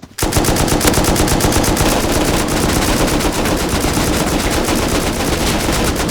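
Rapid automatic gunfire from the survival video game Rust, a loud sustained burst of tightly spaced shots that runs unbroken for several seconds with no talk over it.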